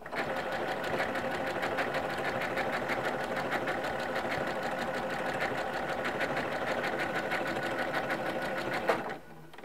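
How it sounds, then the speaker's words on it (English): A Janome M17 sewing machine stitches decorative stitches at a steady fast rhythm, a close mechanical chatter running for about nine seconds before stopping abruptly. "now I'm going to start stitching again"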